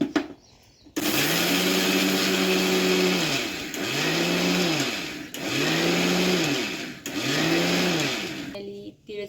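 Whole sesame seeds ground in an electric mixer grinder: a loud whirring motor in repeated bursts, each rising and falling as the blades spin up and slow, with short pauses between pulses.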